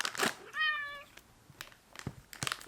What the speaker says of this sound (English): Give the kitty some catnip.